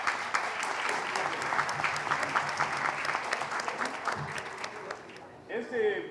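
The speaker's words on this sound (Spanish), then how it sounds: "Aplausos, chicos." Audience applause fills an award ceremony at a university faculty's twelfth anniversary event, a dense, steady wash of many hands clapping for about five seconds before tapering off, with a voice briefly audible near the end.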